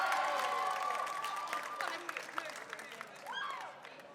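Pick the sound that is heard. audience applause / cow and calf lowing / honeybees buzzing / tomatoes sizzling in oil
audience applause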